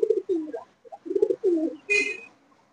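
A feathered Malwai pigeon, one of a group of Punjabi birds offered for sale, coos close by in a quiet room, giving several distinct rolling low coos in short bursts with a brief noisy flutter near the end.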